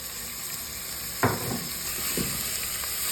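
Sliced onions dropped into hot oil in a pan for mutton curry give a steady close sizzle, with a couple of sharp scraping stirs cutting through the frying hiss.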